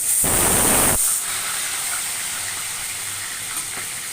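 Rohu fish frying in hot oil gives a sharp burst of hissing sizzle that dies back to a faint, steady high crackle. No one talks.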